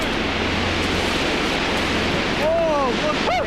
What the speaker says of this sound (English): Then, finally, in the distance, they hear the river falling.